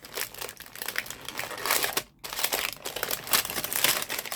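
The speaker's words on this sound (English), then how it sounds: "sorry for the rustling" Plastic packaging crinkles and rustles up close in repeated bursts, with a brief pause partway through and no speech.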